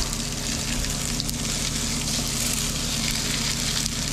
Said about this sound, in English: Lay them down, get them sizzling.